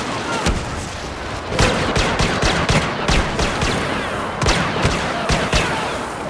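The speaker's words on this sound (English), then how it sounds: "The blaster shots and explosions feel authentic" Rapid bursts of blaster fire and booming explosions in the video game Star Wars Battlefront crackle continuously, loud and dense, with sharp repeated shots over a rumbling battle background.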